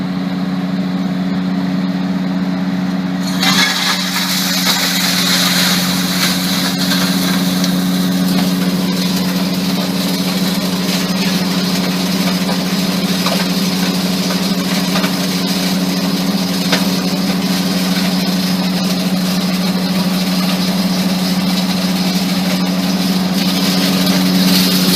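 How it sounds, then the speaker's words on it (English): A 24x16 hammer mill crushing broken TV panel and funnel glass starts up after a few seconds of quieter hum, then runs as a loud, steady, continuous machine roar with a constant low drone and gritty grinding texture throughout. "now we're going to run them through the 24x16 hammer mill"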